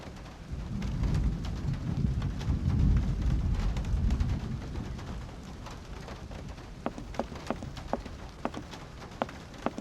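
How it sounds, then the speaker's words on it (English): A thunderstorm with rain in the Syberia video game: a low rolling rumble of thunder swells and fades beneath steady rainfall, with scattered sharp drips and ticks growing more distinct as the rumble subsides. "I'll wait for the storm to end before I step outside."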